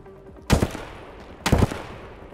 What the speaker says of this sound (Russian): Это бот по нам стреляет.